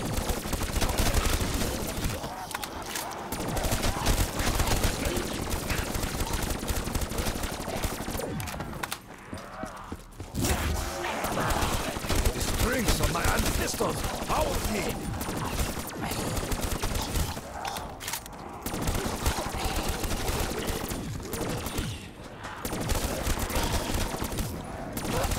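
Dense, sustained gunfire in Call of Duty Black Ops 3 zombies mode on the Ascension map, with rapid overlapping shots rattling almost continuously and only brief dips, plus faint voices mixed underneath.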